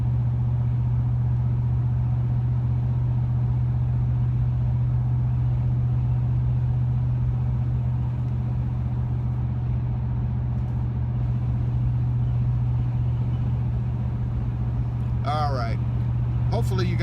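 A Honda Rebel motorcycle fitted with a Carven exhaust cruises at 65 mph on the freeway, a steady low engine grumble under wind rush, with a brief higher whine or voice near the end.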